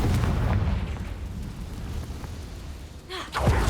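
A Confringo fire spell explodes in the Hogwarts Legacy video game: a sustained low rumbling blast that swells to a sharper burst near the end, loud and close with no talk.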